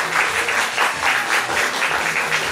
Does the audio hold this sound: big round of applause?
yes